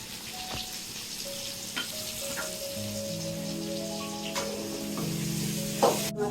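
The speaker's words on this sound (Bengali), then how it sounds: "কষাই নিচ্ছি, একটু লবণ হলুদ দিয়ে দিচ্ছি।" Spices sauté with salt and turmeric in a hot pan for Bengali bhuna khichuri, a steady close sizzle and fry with a few stirring scrapes, all under soft background music.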